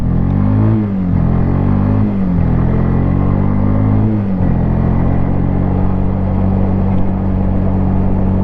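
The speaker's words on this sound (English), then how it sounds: "Gotta wait for this car." A car drives past on a nearby road while a 2001 Yamaha Bear Tracker 250 ATV idles close by, its steady engine rumble loud throughout with a brief swell as the car goes by.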